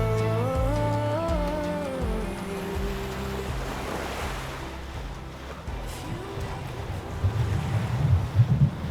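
Strong, steady rush of wind and the wash of waves aboard a small sailboat on the Inside Passage heading toward Alaska, loud and close, with a wavering tonal whine early on and rougher buffeting toward the end.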